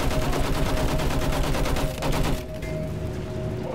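Battlefield 1 video game gunfire, rapid automatic bursts rattling loudly and continuously before easing into a quieter background of combat noise.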